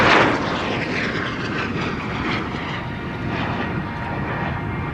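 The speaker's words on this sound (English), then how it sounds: "I think it's my favourite display aircraft" A display aircraft roars overhead, a loud, broad engine rumble that peaks at the start and then holds steady as a sustained wash of jet-like noise, with no talking.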